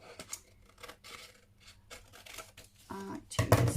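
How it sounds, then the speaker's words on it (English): Scissors snip through off-white card in short crisp rasping cuts, close and fairly quiet, ending in a louder burst of handling noise. "I might actually just going to cut this one because I've got a pair of scissors here."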